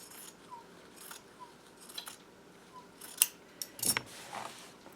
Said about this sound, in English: I'm going to trim about 1/4 of an inch away.